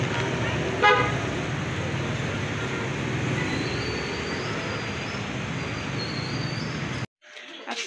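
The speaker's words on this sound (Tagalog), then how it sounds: "Dami pong sasakyan." Busy road traffic near a McDonald's while waiting for a ride: a continuous wash of engine and tire noise with a short horn toot early on and a faint tonal horn-like sound later, then an abrupt cut to near silence.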